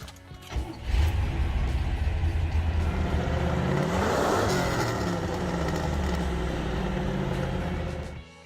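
A 1969 Chevrolet Camaro COPO 427 muscle car's big V8 runs loud and close, swelling into a sustained rev that holds steady and then eases off near the end, with no voices.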